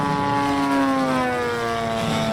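A large RC model Thunderbolt fighter plane with a ZDZ 90cc two-stroke engine drones steadily overhead at a model aircraft show, its loud buzzing engine tone sliding slightly lower as it passes.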